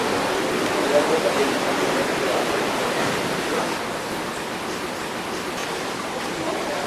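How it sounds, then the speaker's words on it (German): The Bad Gastein waterfall rushing through the spa town: a continuous broadband roar of falling water, even and moderately loud, easing slightly midway. "Auch von hier aus ist der Wasserfall gut zu sehen."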